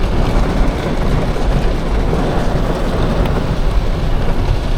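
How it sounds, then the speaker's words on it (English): Heavy rain pours down on a road in Grenada, a loud, dense roar of falling water that stays steady throughout, close and continuous with no speech. "watch out the rain in Grenada"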